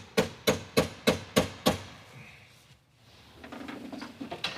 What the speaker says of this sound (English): I'm pretty sure you're not supposed to do it with a hammer